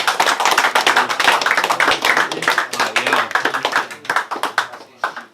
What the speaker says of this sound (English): Everyone make some noise!